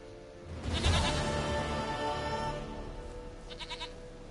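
A goat in The Witcher 3 game lets out a loud, wavering bleat near the start. Softer, shorter bleats follow toward the end over a quiet game ambience, and no one talks.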